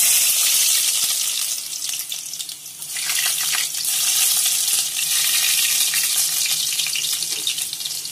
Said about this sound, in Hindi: ये तेल गर्म हो गया है, इसमें सबसे पहले हम जीरा डालेंगे। इसके बाद लहसुन डालेंगे,